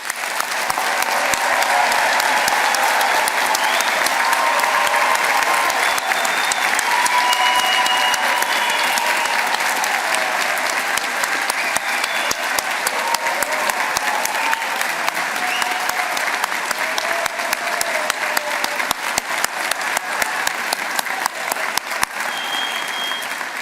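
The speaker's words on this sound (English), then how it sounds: "huge round of applause" A large graduation ceremony audience gives the new graduates a long, sustained round of applause, a dense and even wash of many hands clapping that holds steady for over twenty seconds.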